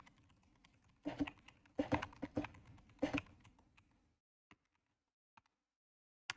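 Fast typing on a computer keyboard, close and crisp, in dense bursts of clicks for about four seconds, then a few isolated keystrokes in near silence.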